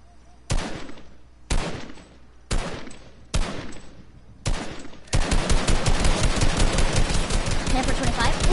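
Gunfire in the video game Fortnite: five sharp, loud single shots spaced about a second apart, then a rapid continuous burst of automatic fire, with voices chatting underneath.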